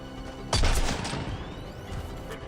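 Gunfire in the video game Mass Effect 3 aimed at turrets: a single sharp blast followed by a rumbling, crackling burst of shots that fades into softer scattered impacts.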